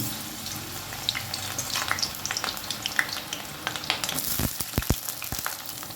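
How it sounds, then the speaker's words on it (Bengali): Eggplant pieces fry in hot mustard oil in a pan with a steady, close sizzle and crackle, with a few sharp utensil clicks and scrapes near the end. "তেল গরম হয়ে গেছে তেলের মধ্যে আমি দিয়ে দেব টুকরো করে কেটে রাখা বেগুন"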